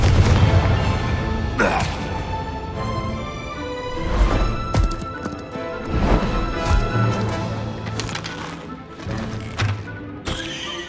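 Spell explosions from Bombardo and Confringo in the Hogwarts Legacy video game, a series of loud booming blasts and crashing impacts spaced a second or two apart, with clattering debris and combat effects between them.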